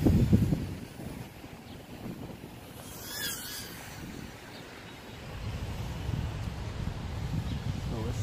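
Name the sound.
wind noise outdoors on microphone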